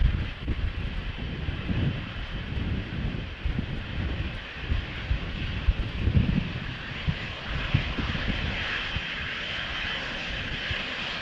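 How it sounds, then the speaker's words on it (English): An Embraer jet taxis toward the lineup point on Schiphol's windy runway 36L, its engines giving a steady moderate whine and rumble mixed with wind buffeting on the microphone. "the Embraer is pulling up to line up"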